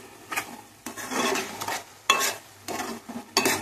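Ridge gourd curry cooks in a pan, stirred with a utensil in short scraping bursts over a soft sizzle, close and fairly quiet, with no voices.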